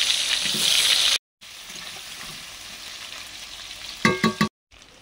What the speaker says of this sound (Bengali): তেলে অল্প একটু হলুদ দিয়ে মাছের তেলের আলুগুলো ভেজে নিচ্ছি।